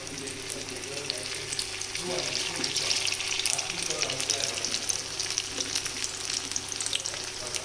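Aloo tikki patties fry in a pan with a steady, close sizzle and crackle that runs throughout, with light scraping and stirring sounds mixed in.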